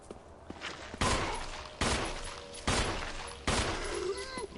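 Gunshots from the Resident Evil 2 video game, four loud, sharp reports spaced about a second apart, each with a short decaying tail, set against quiet game ambience.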